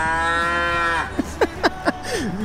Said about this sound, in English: the famous cows from here. You know the well-known pictures of those with the long hair and the horns, and Claudia is trying to trick them to come